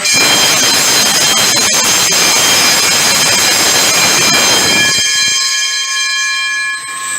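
A pressure pump's alarm gong rings loudly and continuously as water drains and pressure drops, a harsh metallic ringing layered with hissing that suddenly thins and cuts back near the end.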